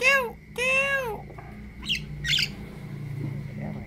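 A hand-held myna bird gives two loud, harsh, drawn-out squawks close up, then a few quieter chirps and squeaks follow over a low background hum.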